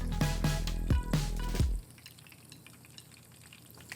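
Fish fries in hot oil with a few loud clattering handling knocks during the first two seconds, then a soft, steady sizzle continues alone, faint and close.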